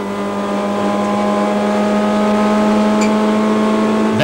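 A Honda race car in a 1997 Group N touring car race holds a steady, loud, high-revving engine note as it blasts close past the pits, with no break in the drone.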